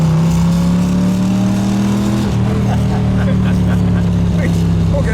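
A 1962 Chevrolet Corvette roadster's 327 cubic-inch, 340-horsepower V8 idles loud and close, a deep throbbing exhaust note with a steady hum that dips slightly in pitch midway, as if a light blip of the throttle settles back down.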